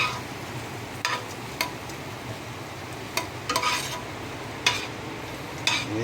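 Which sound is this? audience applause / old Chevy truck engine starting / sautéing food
sautéing food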